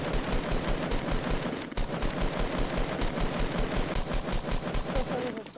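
Dense, continuous rapid gunfire from automatic weapons in a Fortnite Battle Royale match, loud and sustained throughout with overlapping bursts and no pauses.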